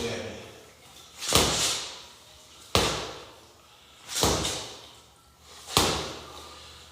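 Four firm punches land on a water-filled Black Boxer Resurgence freestanding bag, each a sharp smack followed by a sloshing, swelling thud as the weighted base recoils, spaced about a second and a half apart with a person talking between hits.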